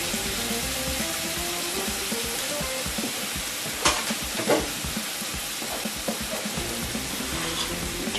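Swordfish fillet and lemon-dressed vegetables sear together in a hot pan, a steady broadband sizzle running throughout with a few sharper pops and scrapes as the fish is flipped over, close and moderately loud with no talking.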